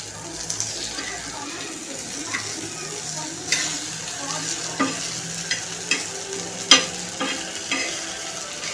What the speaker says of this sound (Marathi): वड्या परतूया छानपैकी